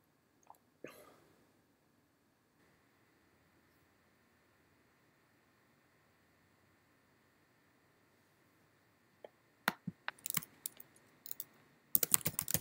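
After a long near-silent stretch, irregular bursts of sharp computer keyboard clicks clatter close by, quickening toward the end.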